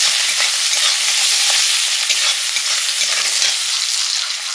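Freshwater shrimp with greens, ivy gourd and homegrown okra cook in a pan, giving a continuous bright sizzle with soft scraping stir strokes, close and steady, with no talk.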